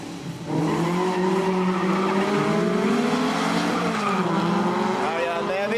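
Naturally aspirated 4-cylinder race cars and a Volkswagen Beetle race in a street-car drag meet, engines bursting in after a brief lull into loud, sustained revving with shifting pitch and tire squeal; a commentator's voice runs over the top.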